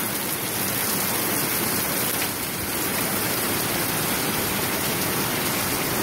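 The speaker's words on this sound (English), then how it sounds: "what a nice rain, huh? We really needed it." Steady heavy rain in Missouri hisses continuously, a dense, even wash of drops pattering on surfaces close by.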